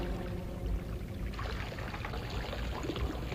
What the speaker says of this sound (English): Not a sound. Only that splashing water.